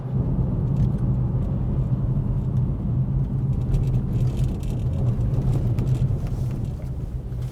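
A steady, low engine drone from a Renault Clio RS hot hatchback while driving, with road rumble, continuous and close, holding at an even pitch for several seconds with no voices over it.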